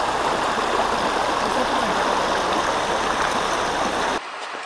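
Water rushes steadily through a cave passage in the Buëch and Dévoluy area, a loud continuous flow that fills the space before dropping away abruptly near the end.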